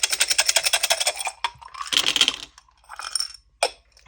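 Scrabble tiles rattle loudly as they are shaken in a container, in a rapid rhythmic clatter that breaks off, then returns in a few shorter bursts, close and with no talking.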